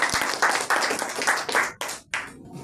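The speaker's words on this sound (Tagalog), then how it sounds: "Palakpak, maraming salamat." A small group claps in thanks at the end of a flux-cored arc welding lesson, several bursts of close hand clapping broken by short pauses before stopping.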